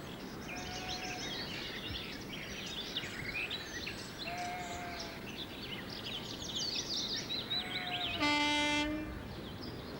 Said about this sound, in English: Ah, the familiar cry of the lesser-spotted DMU.